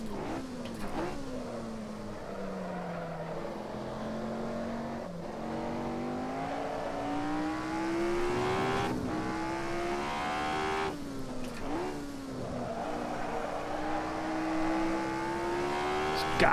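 A race car lapping in the Assetto Corsa racing game, its engine note rising and falling steadily through gears with brief lifts and downshifts, and a voice talking over it throughout.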